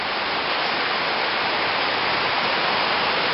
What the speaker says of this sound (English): The creek practically flooded to the brim.